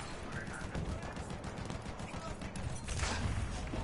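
Rapid video game gunfire rattling in dense bursts like machine-gun fire, loud and continuous with a heavier burst near the end, voices faintly mixed in.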